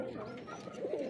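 Pigeons cooing at a home loft, a low, soft, continuous throaty murmur that swells slightly toward the end, fairly quiet with no voices.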